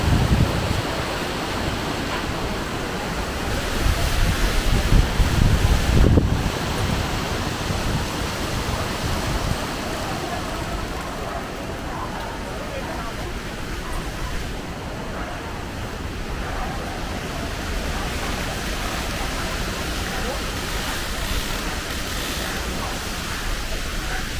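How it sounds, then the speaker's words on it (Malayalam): Strong wind roars continuously, a broad rushing noise buffeting the microphone, briefly louder early on, with no clear speech. "മഴയല്ല കാറ്റ്"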